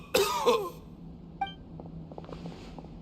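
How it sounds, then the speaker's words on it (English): A character in the Genshin Impact video game coughs in two quick harsh bursts near the start, followed by a faint clink and quiet game ambience with soft tapping sounds. "Why is he coughing so much?"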